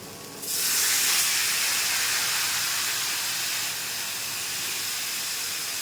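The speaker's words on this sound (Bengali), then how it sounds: "আর একটু জল দেবো" Water poured into a hot pan of taro and rohu fish curry sets off a sudden loud hiss and sizzle that holds steady, then eases slightly to a continuous simmering spit; no talk.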